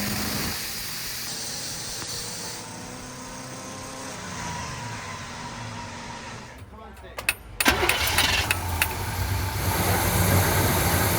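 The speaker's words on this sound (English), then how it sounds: "when we tried to start that engine" A 1971 Chevy K10 truck engine cranks and catches, then idles roughly and revs louder, with people talking nearby.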